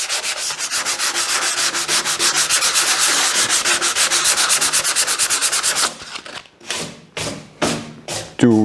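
Bare rusty metal being sanded by hand, a loud close rhythmic rasp of quick back-and-forth strokes that runs steadily, then breaks into slower, separate strokes near the end.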